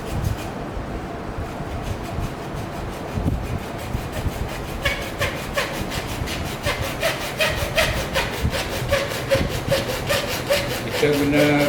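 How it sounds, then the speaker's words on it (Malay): A hacksaw cuts a piece of material in a school lab during solenoid maintenance, the close strokes starting irregular and then settling into a steady back-and-forth rasp, with speech faintly in the background. "Kita guna gergaji besi ni lebih mudahlah untuk memotong."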